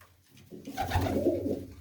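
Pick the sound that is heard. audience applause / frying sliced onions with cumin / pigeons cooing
pigeons cooing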